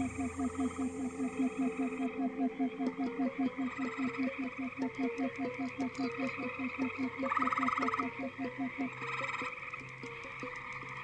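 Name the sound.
green frogs croaking at a pond edge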